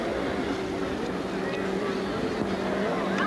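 Pro X2 jet skis run on the water at a 1990 jet ski race in Islamorada, Florida, their engines droning steadily at middle distance, with wind noise over the microphone throughout.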